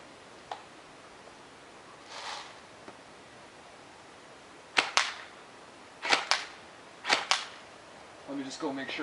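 An AK-47 airsoft rifle fires a handful of sharp, snapping shots, some as quick pairs, outdoors, with faint rustling and a bit of background voice between them.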